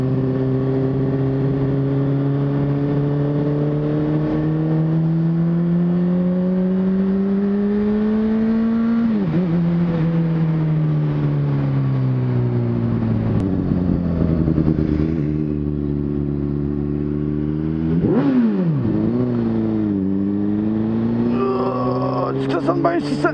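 A full sport motorcycle ridden on freshly paved asphalt in Quebec, its engine droning loud and close, pitch climbing steadily through each gear and dipping at two upshifts, with wind rush throughout.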